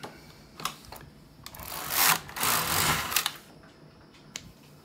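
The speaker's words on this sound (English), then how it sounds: "And it's my wife's knitting machine. So let's try it again." The carriage of a home knitting machine is run across the needle bed, making a rising mechanical whirr and rattle in the middle, with sharp clicks before and after it.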